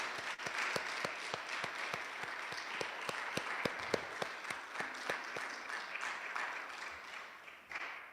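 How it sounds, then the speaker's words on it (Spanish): A church congregation claps steadily with sharp, even beats, loud and sustained, slowly thinning toward the end. "démosle un fuerte aplauso al Señor"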